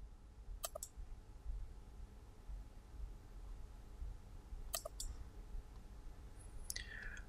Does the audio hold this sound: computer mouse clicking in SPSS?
yes